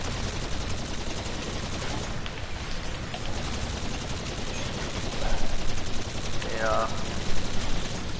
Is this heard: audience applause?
no